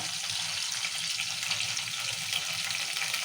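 Curry leaves dropped into hot oil with green chillies for a village-style tomato and green chilli pachadi hiss and sizzle loudly and up close, with a bright, continuous frying crackle throughout and no talking.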